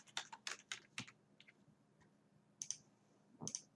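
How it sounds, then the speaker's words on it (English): Someone types an email address on a computer keyboard, producing a quick burst of close, crisp key clicks, a pause, then a few more scattered taps. "You're going to type in somebody's email here."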